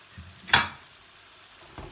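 Şevketi bostan greens with lamb are stirred while sautéing in a pot, giving one soft scraping stir over a quiet, low sizzle, followed by a faint second scrape.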